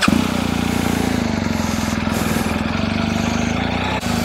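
A BMW R 1250 GSA motorcycle engine idles close by, a loud, steady throbbing rumble with an even pulsing beat that continues without pause.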